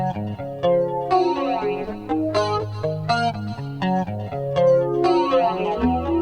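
An electric guitar runs through an effects unit that adds synthetic-sounding harmonics. Bright, chorus-like chords and single notes sound close and continuous with no speech.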